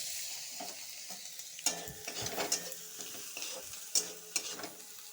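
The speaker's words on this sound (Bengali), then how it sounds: "রসুনটা ভাজা হয়ে গেছে টমেটো দিব" Tomatoes and garlic fry in a pan for lentil dal, a continuous soft hiss of sizzling oil broken by repeated scraping and stirring knocks of a spatula, fairly close and without speech.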